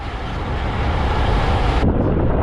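Wind rushes past the microphone while cycling on a long audax ride from Infanta toward Real, Quezon, a steady, loud, broadband roar that runs continuously without any talking.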